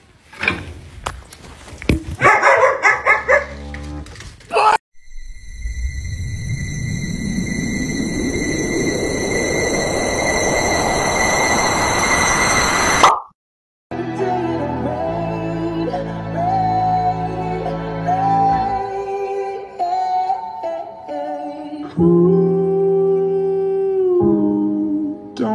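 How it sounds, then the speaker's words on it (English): A Labradoodle howls in long, wavering, pitched tones in response to a didgeridoo, with other short clips of household noise cutting in and out around it. "A didgeridoo."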